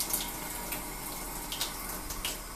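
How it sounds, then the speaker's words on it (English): Cool water runs steadily from a sink tap, a continuous close splashing stream with no pauses. "Let it run under that cool water."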